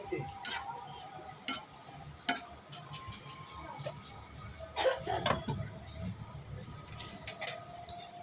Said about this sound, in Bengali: ভালোভাবে একটু নেড়ে চেড়ে দিতে হবে, মশলার সাথে মিশিয়ে দিব।